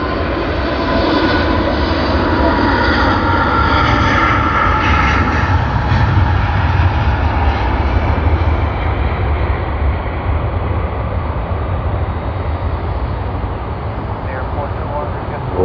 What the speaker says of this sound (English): now we will be getting them on their takeoff roll